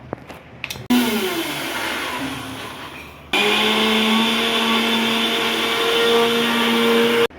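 A kitchen mixer grinder pulverises roasted raw rice, moong dal and coconut, its loud motor whine surging on after a short start, dropping briefly, then roaring back steady and close until it cuts off, with no talking.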